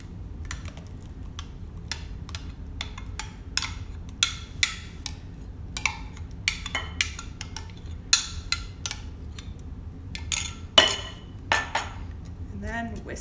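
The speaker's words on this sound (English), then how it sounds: "And then whisk it in." A whisk clinks and taps steadily against a bowl as mango puree is beaten into a cold ice cream base, a quick irregular run of light metallic ticks over a soft background.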